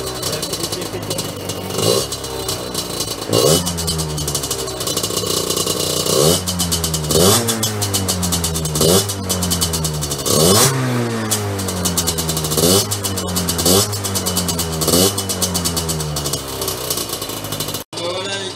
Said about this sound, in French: Je vais accélérer un peu. Elle est chaude la moto là.